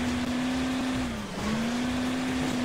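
Cars launching from the start in the racing game Hill Climb Racing 2, a steady high engine whine that dips briefly and then climbs again, close and continuous, with no talking.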